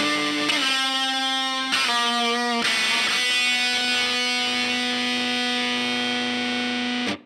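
A left-handed Guild Skyhawk electric guitar played through heavy distortion rings out in loud sustained chords and held notes, with a few sharp chord changes before an abrupt stop.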